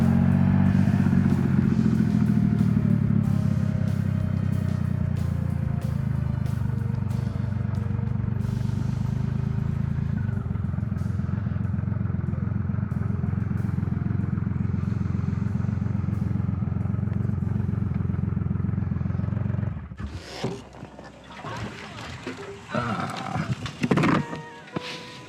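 A motorcycle idles loudly and steadily up close while being parked on a street, its engine cutting off partway through, followed by scattered clatter and handling noises.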